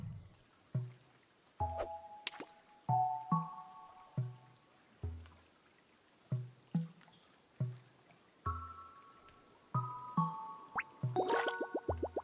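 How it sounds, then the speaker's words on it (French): Gentle water sloshing and paddling plops in the fishing scene of the Carto video game, repeating in a steady rhythm of soft splashes with light chimes and melodic game tones layered over a quiet background hum. "L'eau remue."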